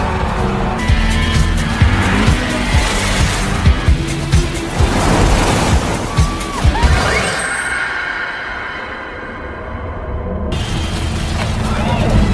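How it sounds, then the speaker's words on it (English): Film car chase with racing engines, screeching tire squeals and skids, and a crash-like impact, loud and busy before the roar thins toward the end. "A high-speed chase ensued."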